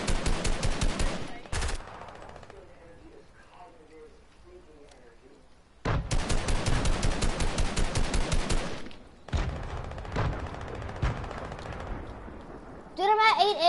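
Gunfire in an arena duos match of a video game, long loud bursts of rapid automatic fire that stop and restart, separated by quieter stretches with voices.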